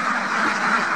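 Ducks at a duck farm quack steadily and fairly loudly throughout, a dense overlapping chorus of calls close by with no break.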